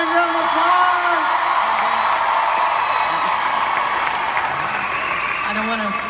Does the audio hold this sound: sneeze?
no